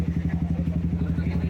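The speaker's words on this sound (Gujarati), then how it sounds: "રોકીભાઈનું બાઇક અવાજ કરી રહ્યું" A motorcycle engine runs close by with a rapid, even thumping pulse, loud and steady for the whole moment.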